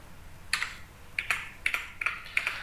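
Keystrokes on a computer keyboard entering sale items in ERP software, heard as short clicky bursts in small clusters, fairly quiet and close, with no talking.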